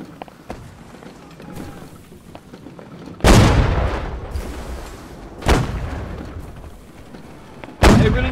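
Ship cannons in the naval battle game Holdfast fire in three loud, heavy booms, each followed by a rumbling decay, over a busy background of shuffling, movement and voices.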